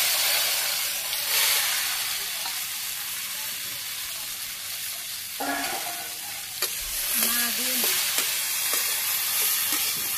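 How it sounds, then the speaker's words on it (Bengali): Okra frying in a pan in a Bangladeshi village kitchen: a steady, close sizzle and hiss runs throughout, with a few brief stirring clatters and a short stretch of voice partway through. "ঢেঁড়স ভেজে নি"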